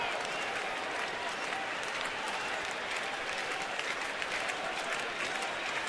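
A stadium crowd of 42,000 cheers and claps at a night baseball game, a continuous roaring wall of applause with no one speaking.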